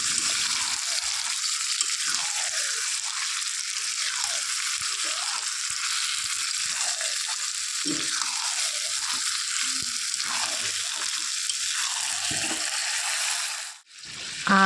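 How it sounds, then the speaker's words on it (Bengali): Marinated mutton with raw potatoes fries in a kadai, giving a continuous loud sizzle with a few stirring scrapes along the way. The hiss cuts off abruptly near the end. "তারপর এর মধ্যে ম্যারিনেট করা মাংসটা দিয়ে দিলাম, তারপর সুন্দর করে হচ্ছে আমি আস্তে আস্তে করে কষিয়ে নেব।"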